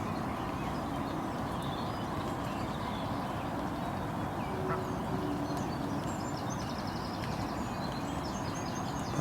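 Waterfowl calling across a big pond: scattered honking and quacking calls over a steady wash of wind and water noise, fairly faint and distant, with no talking.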